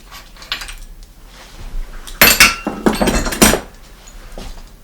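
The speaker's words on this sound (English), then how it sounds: "I've got a special tool for this, which makes life a little bit easier for me, and simply turn it and break it loose." Special tool breaking loose the bottom bracket of an old three-piece bicycle crank, giving a few sharp metallic clanks and a grinding crack in the middle of the clip, close and fairly loud.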